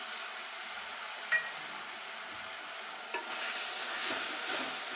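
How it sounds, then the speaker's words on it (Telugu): Mushroom pulao masala paste fries with onions in oil, giving a steady soft sizzle with a couple of faint clinks from stirring. "ఇందులో నుంచి ఆయిల్ అనేది సపరేట్ అయ్యేంత వరకు ఒక 3 నిమిషాలు వేగనివ్వాలి"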